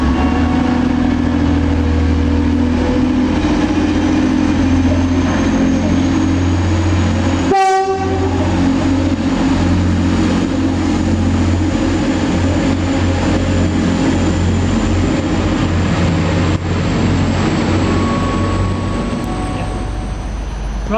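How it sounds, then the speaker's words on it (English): A British Rail Class 185 diesel unit at Lancaster station rumbles and hums at a steady, loud idle, with a short sharp horn blast near the start and a continuous engine drone throughout. "As another Class 185 arrives into Lancaster, our train soon departs to Barrow-In-Furness."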